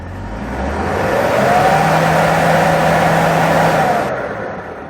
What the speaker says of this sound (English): let's try to accelerate. Check out the RPMs and the engine movement. The engine sound